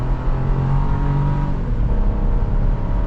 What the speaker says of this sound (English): we are setting off now in the Trax